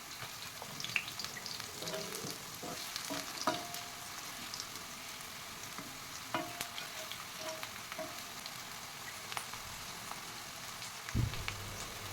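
Raw banana slices fry on a hot tawa, a soft steady sizzle with scattered crackles and light spatters, fairly quiet and close, ending in a brief low thump.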